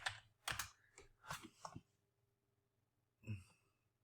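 A computer keyboard is typed on quietly: a quick cluster of soft keystrokes, a pause, then one final tap.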